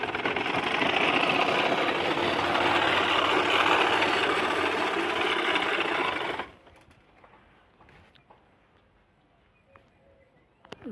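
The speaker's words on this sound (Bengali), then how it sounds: "দেখুন সাইকেলেই সেলাই।" A sewing machine mounted on a bicycle runs in a fast, steady mechanical whir for about six seconds, then stops abruptly, leaving faint street background and a few small clicks.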